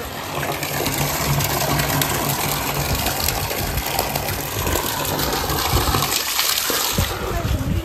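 Water from a borewell gushes and splashes steadily onto farm trees, a continuous broadband rush that stays loud throughout with no clear talk over it.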